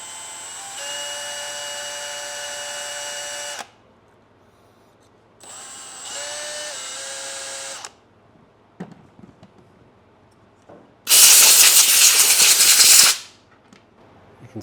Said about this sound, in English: let's chamfer the little spring.